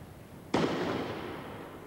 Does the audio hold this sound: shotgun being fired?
yes